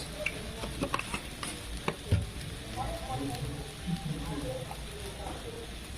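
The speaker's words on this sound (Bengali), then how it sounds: "এবার এটা আমি ভালো করে কষে নেব" Spice paste of turmeric, chili powder and salt fries in a pan, giving a faint, steady sizzle broken by scraping and clinking stirring strokes close by.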